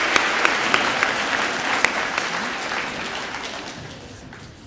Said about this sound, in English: Let's please give those teachers a round of applause.